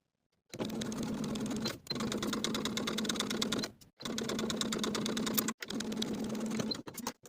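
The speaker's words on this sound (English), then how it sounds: "using my invisible zipper foot once again, I'll sew from the top to the bottom marking" A sewing machine with an invisible zipper foot sews a zipper onto a skirt in steady rapid stitching bursts, four runs separated by brief pauses, close and moderately quiet.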